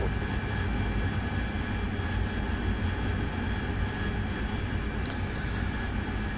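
Aircraft engines run up on a carrier deck in the DCS flight simulator, a steady, loud, broadband roar and whine holding constant throughout with no talk.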